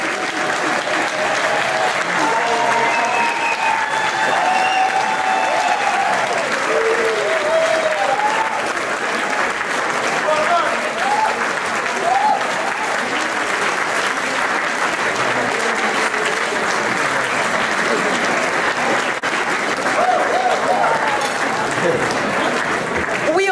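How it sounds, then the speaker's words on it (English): An awards ceremony audience applauds loudly and continuously as people rise to their feet, dense clapping sustained for over twenty seconds with scattered cheers and whoops mixed in. "Can everyone stand on their feet, please, and give Abdul Sheikh a huge round of applause?"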